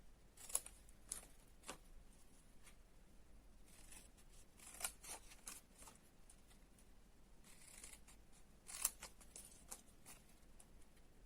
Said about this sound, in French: à l'aide de notre paire de ciseaux, nous allons ôter les 4 carrés de chaque angle